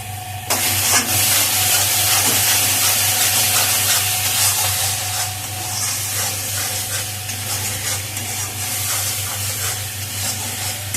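Masala spice paste fries in a pan, crackling and hissing loudly and steadily from close by after a sudden start, with occasional stirring scrapes and a faint low hum beneath.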